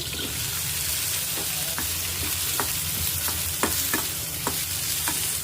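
Okra pieces fry in oil with a steady, dense sizzle that fills the whole stretch, while a spoon stirs the pan at a regular pace, giving sharp clicks and scrapes roughly every half second.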